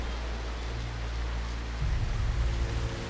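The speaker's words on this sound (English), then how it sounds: "20 centimetres of rain fall in a single 24-hour period." Heavy rain pours down during an intense wet-season storm, a steady dense hiss with a deeper low rumble that swells partway through.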